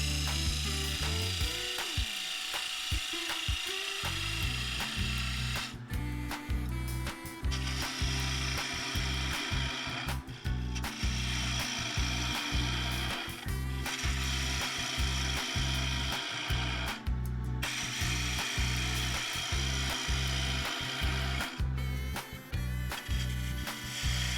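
A woodturning tool cuts a silky oak bowl spinning on a lathe, giving a steady close whirring hum with a fast, regular chattering pulse from the cut. It runs continuously for the whole stretch with no talking.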